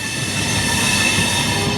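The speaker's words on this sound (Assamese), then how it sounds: "ট্ৰেইন যাই আছে লাহে লাহে এনেকৈ" A train rolls slowly along the track, a steady close rumble with faint wheel squeal and clatter, continuous and without talk.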